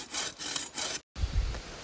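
Hand saw cutting through branches of a felled maple tree, rhythmic back-and-forth strokes rasping close by, with a short gap then heavier bumping strokes.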